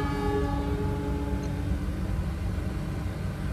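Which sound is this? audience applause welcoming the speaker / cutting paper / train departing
train departing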